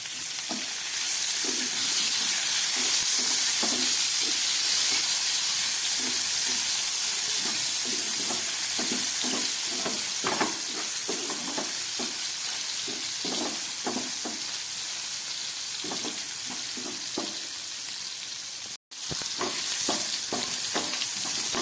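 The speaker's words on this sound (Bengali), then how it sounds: "খুব ভালো করে আমি এগুলোকে একটু ভেজে নিচ্ছি।" Paneer pieces frying in hot oil in a pan give a loud, steady sizzle broken by repeated scraping stir strokes. A brief cut comes near the end, with no talking.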